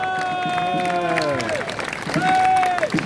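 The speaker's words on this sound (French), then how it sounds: "On peut l'applaudir très fort." A crowd claps at a French political rally, the applause running underneath a loud voice that dominates the foreground, talking or calling out in sustained, pitched phrases throughout.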